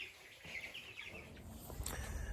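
Young ducklings in a brooder chirp in high, rapid peeps over a quiet low background hum, soft and close.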